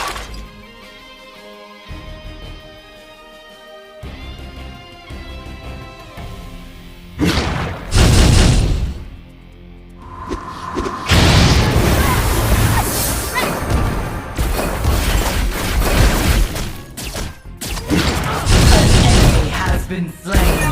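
Bombs exploding in the video game Legend of Ace, with heavy booms and crashing blasts over game music and sound effects. The explosions get loud and dense partway through, and short in-game voice lines are heard.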